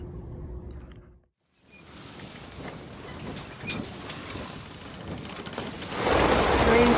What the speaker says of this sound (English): Rain's holding me hostage.